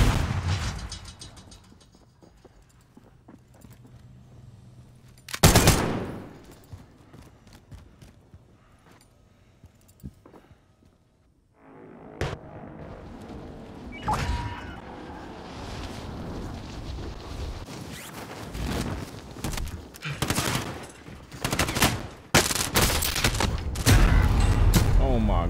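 Gunfire in the battle royale game Call of Duty Warzone, sharp loud shots and bursts scattered through the clip, with a dense stretch of rapid firing and impacts later on, mixed with game noise.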